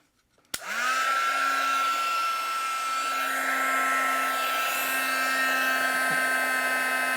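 A heat gun switches on abruptly and blows hot air steadily over a paper craft piece, a loud constant whine and rush with no pauses.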